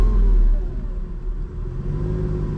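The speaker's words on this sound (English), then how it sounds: "You put your foot on the brake and crank the key." Cabin of a 2006 Lamborghini Gallardo with e-gear as the engine fires, a loud low rumble at the start that settles into a steady, slightly quieter idle drone heard from inside.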